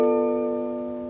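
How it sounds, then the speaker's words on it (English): A half-diminished seventh chord in B (called H in European usage) rings out as one sustained, steady chord, held alone and fading slowly, with no talking over it. "is a H minor 7 flat 5 chord."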